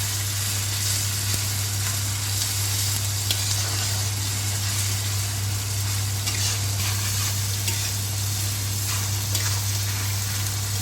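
Ginger garlic paste fries in leftover oil in a pan while mutton korma is being cooked, giving a continuous, even sizzle with faint crackles, close by and steady throughout, with no talking.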